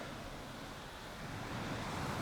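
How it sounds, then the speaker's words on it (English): Waterfall beside an abandoned medieval mill, swollen after heavy rain, heard as a steady broadband rush of falling water that holds constant and swells slightly louder toward the end, with no voices. "Whoa, and it's waterfall, splendid waterfall."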